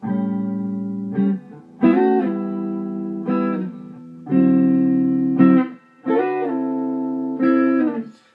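A clean electric guitar plays a series of sustained blues chord phrases with slides, each held then re-struck, steady and close with no talking.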